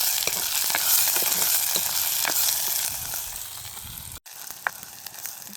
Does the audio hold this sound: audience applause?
no